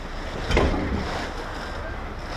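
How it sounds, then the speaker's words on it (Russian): Strong wind gusts through a delivery truck cab on a Siberian night, a steady broadband roar with a louder surge early on, fairly close and continuous with no talk. "Ветер сильный дует"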